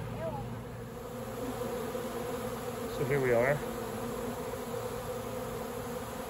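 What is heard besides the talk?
wild honeybee swarm buzzing around a swarm trap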